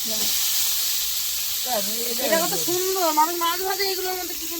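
Fish frying in a pan in a home kitchen gives a steady, bright sizzling hiss throughout, while a voice talks over it nearby.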